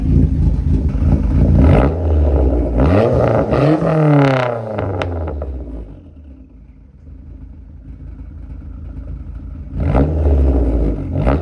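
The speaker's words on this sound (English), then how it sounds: "I'll do a couple little revs for you guys real quick and let you hear it" Engine of a 2005 SRT-4 car revved a few times up close, rising to a roaring peak and dropping back to a rough idle before one more sharp rev.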